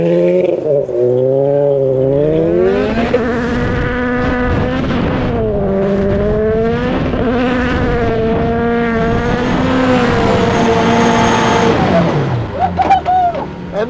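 Gymkhana Hucknster car engine screams through sustained high revs while spinning donuts on pavement, the pitch rising and falling in repeated sweeps, loud and close before cutting off near the end.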